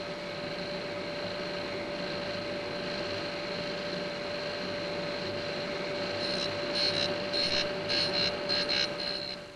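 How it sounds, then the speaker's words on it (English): Cutter grinder grinding a cutting tool, a steady machine hum and whine with tonal drone, joined near the end by a few short bursts of grinding contact, no voices. "To do this, we're using a machine called a cutter grinder."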